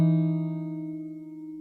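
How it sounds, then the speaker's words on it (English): A guitar pull-off sounds together with a lower bass note, both ringing clearly on their own and fading slowly over nearly two seconds. "you just have to add a bass note which you have to play at the same time when you pull off"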